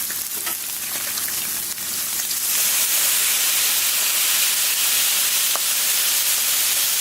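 Smash burgers sizzle loudly on a Camp Chef flat top griddle, a dense, steady frying hiss up close that swells louder partway through and holds, with no voices.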